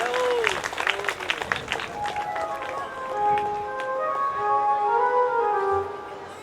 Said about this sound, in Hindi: जेतिया के लिए जोरदार तालियां बजा दो भैया जी।